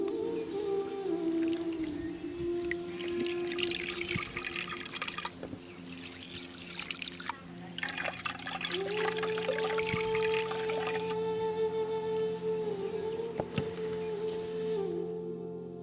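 Tamarind squeezed and dissolved by hand in a bowl of water for horse gram rasam, giving a steady wet sloshing and dripping with a faint tonal hum running underneath throughout.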